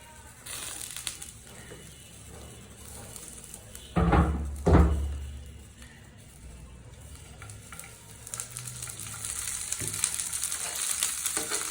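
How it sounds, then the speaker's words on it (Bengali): Garlic frying in mustard oil for a mashed dried-fish bhorta: two loud crackling bursts as the garlic hits the oil, then a continuous hissing sizzle that swells again toward the end. "আমি রসুনটা সরিষার তেলে ভেজে নিলাম"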